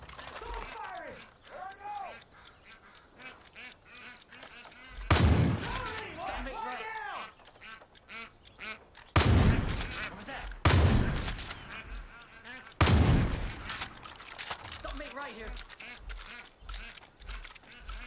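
Mortar fire in the video game Far Cry 5, with several loud booming launches and blasts spaced a few seconds apart, heard over game music and talking characters.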